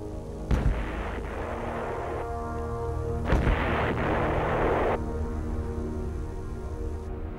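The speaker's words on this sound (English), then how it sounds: "call in supporting fire from the Army's huge 175mm self-propelled guns" Huge Army 175mm self-propelled guns of the Vietnam War fire two heavy booming shots a few seconds apart, each rolling out into a long reverberating rumble over a steady background drone.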